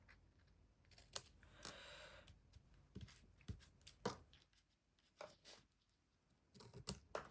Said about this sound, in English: Let's grab my scissors. Just trim the side.